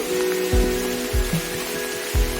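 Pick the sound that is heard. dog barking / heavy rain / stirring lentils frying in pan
heavy rain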